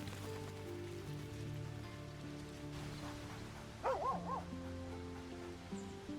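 A dog barks in the video game Baldur's Gate 3, a short cluster of several barks over a steady rain-like ambience and a low musical hum.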